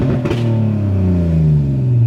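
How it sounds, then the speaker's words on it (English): A car exhaust with a Mustang-like V8 growl revs loudly up close, a deep steady drone that rises in pitch over about two seconds. "How do you like that exhaust sound"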